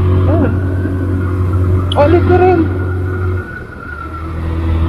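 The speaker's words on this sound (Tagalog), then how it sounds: "Pero yung aking motor, oh, easy lang, nanginunahan yung truck." A Motorstar Easyride 150RS motorcycle engine hums loudly and close as it pulls past a truck, its tone rising briefly midway before dropping off, with someone speaking over the ride.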